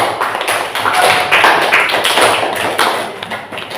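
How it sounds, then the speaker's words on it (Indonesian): Applause fills a classroom for a student, steady and fairly loud hand clapping from a group that keeps going throughout with no talk. "kita beri aplaus kepada Aisyah."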